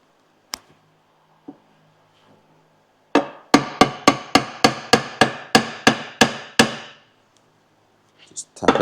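A hammer taps a Toyota Hilux front differential down onto its dowels in a workshop: about a dozen sharp, evenly spaced metallic knocks in a steady run, close and loud, after a few isolated clicks.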